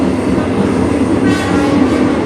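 A Ugandan passenger train moving at speed, its steady loud rumble and rolling wheel noise continuous throughout with no talk.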